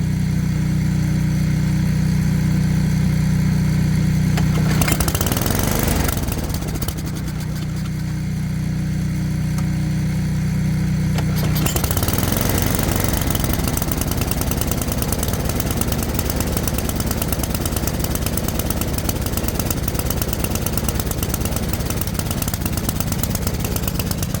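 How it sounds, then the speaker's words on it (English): A small engine idling steadily after an oil change, running as a continuous, even, close mechanical drone with no talk over it. "you see it's idling perfectly"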